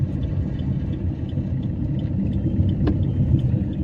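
A car engine pulling after a shift into fourth gear, a steady mid-pitched rumble heard from inside the cabin, continuous and fairly loud with no talking.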